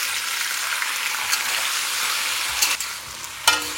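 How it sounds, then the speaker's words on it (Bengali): Cut potatoes fry in oil with cumin and dried chillies, a close, steady hiss and sizzle throughout, with a couple of brief stirring scrapes near the end. "জিরাটা থেকে একটু সুন্দর গন্ধ বেরিয়ে গেলে আমি এখানে দিয়ে দিচ্ছি কেটে রাখা আলুগুলো।"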